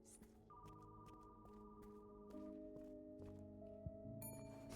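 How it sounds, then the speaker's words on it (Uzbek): An electronic telephone ring sounds in layered sustained tones with shifting pitches and a brighter chime near the end, steady and uninterrupted by talk. "Telefonga javob ber."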